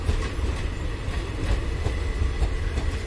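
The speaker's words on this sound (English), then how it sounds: "It is entering at the Dharwad railway station in time and right time, on time always." Chalukya Express 11005 rolling into Dharwad railway station, a loud, close, steady rumble of wheels on track with faint clicking and no voices.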